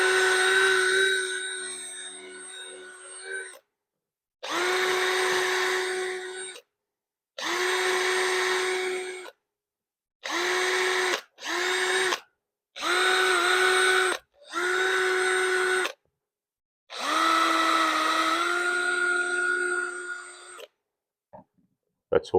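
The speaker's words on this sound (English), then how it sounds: "I just use a cordless with a little wire brush." A cordless drill spins a small wire brush against the adjustment wheel of an old Stanley Bailey No. 8 plane, a series of loud, close whirring bursts of several seconds each, separated by brief silences.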